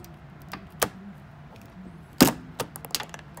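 A plastic cowl retaining clip on a 2005 Ford F-150 pops free under a pry tool: two sharp, close snaps, with the louder one coming later, plus a few lighter clicks and creaks around them in an otherwise quiet garage.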